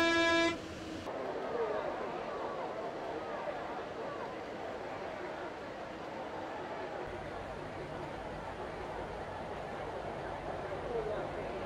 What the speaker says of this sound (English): I'm just going to demonstrate the horn with the spacebar key